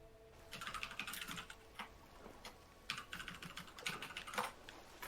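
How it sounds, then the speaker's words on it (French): Computer keyboard typing during an online voice chat session, with bursts of rapid, fairly close keystrokes clattering in irregular clusters throughout. "Ah, j'entends ton clavier."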